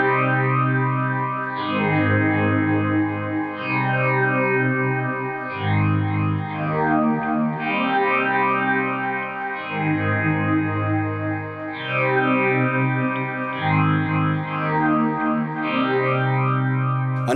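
Electric guitar run through heavy effects into a Joyo 212V cabinet loaded with Celestion Vintage 30 speakers, playing sustained chords with swirling chorus, echo and distortion in repeating two-bar phrases, no talking.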